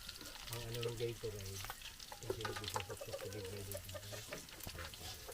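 Pork ribs frying and rendering fat in a pan at an outdoor farm cookout, steady crackling sizzle with intermittent stirring scrapes, while a rooster crows in the background.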